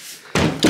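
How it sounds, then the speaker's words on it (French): A door is pushed shut in a home, a sudden solid slam after a quiet lead-in followed by a second knock or rattle, close and loud. "Il faut fermer la porte."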